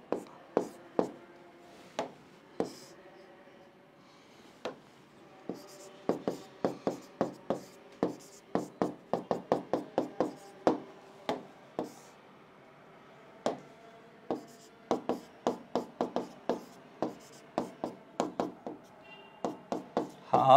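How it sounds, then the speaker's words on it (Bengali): Chalk or marker writing on a board while a chemistry reaction-rate problem is worked out, a long run of quick taps and strokes, sometimes in fast bursts, with pauses between and faint talk at times. "এটা যদি আমি এখানে ধরো লিখে ফেললাম"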